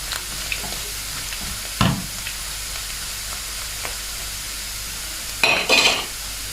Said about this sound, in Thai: คือทอดให้เขาจนกรอบเลยละค่ะ